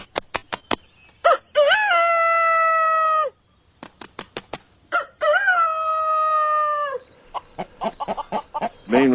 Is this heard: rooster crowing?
yes